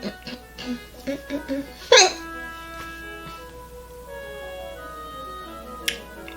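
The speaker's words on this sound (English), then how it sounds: "I really cannot have the hiccups at this exact moment." A person hiccups several times in quick succession, then gives one sharp, louder hiccup, while quiet background music plays indoors.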